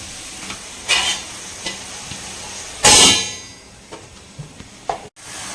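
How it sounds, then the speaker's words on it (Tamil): Tomato and ginger-garlic paste sauté in a pan for a mushroom thokku, with a low steady sizzle, scattered spoon clinks and scrapes, and one brief loud hiss burst near the middle. "இஞ்சி பூண்டு பேஸ்ட்டும் தக்காளி நல்லா வந்து பச்சை வாசனை போகிற அளவுக்கு வதங்கட்டுங்க"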